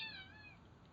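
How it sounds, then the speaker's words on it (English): A pet house cat gives a single short, clear meow indoors that fades within half a second into quiet room tone. "Yeah, that's my cat."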